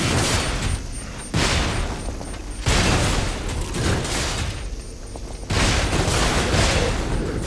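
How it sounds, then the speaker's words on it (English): Gunfire in the video game Lies of P: three or four heavy, booming shots, each opening a burst of loud, dense noise and rumbling, spaced a second or two apart amid continuous combat sound. "This time I will shoot him."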